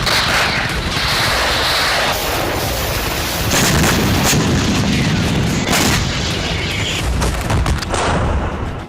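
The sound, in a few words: K9 Vajra self-propelled howitzer artillery firing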